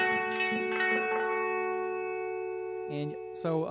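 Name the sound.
Line 6 DL4 MKII delay stacked with reverb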